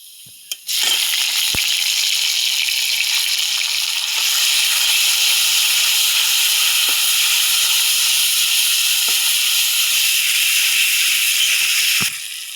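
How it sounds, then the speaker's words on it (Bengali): Chili is tipped into a hot pan of fried onions for a cabbage and fish dish, bursting into a loud, continuous hissing sizzle that holds steady for about eleven seconds with a few faint clicks. "এখন আমাদের মধ্যে ঝাল দিয়ে দেব।"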